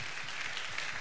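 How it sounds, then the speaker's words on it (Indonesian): Congregation applauding at a church healing service, a steady broadband wash of clapping at moderate level with no gaps across the short stretch. "Tepuk tangan buat Yesus."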